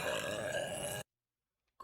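A woman lets out a single loud, drawn-out burp lasting about a second, close to the microphone, followed by near silence.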